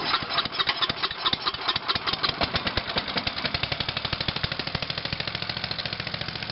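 A gasoline engine on a leaf shredder catches and starts, sputtering unevenly at first and then settling into a steady, rapid idle chug, close and fairly quiet, with no talking.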